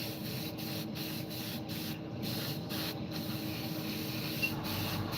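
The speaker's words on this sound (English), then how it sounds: "I'm just going to spray down across here, just a nice light coat" A steady, close hiss of an airbrush spraying paint onto an A-4M scale model, continuous and even, with a few brief breaks in the higher air sound.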